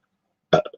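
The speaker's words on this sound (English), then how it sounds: "I keep burping." A single loud, close burp from a person with an overly full stomach, a short throaty belch followed by two smaller trailing gulps after silence.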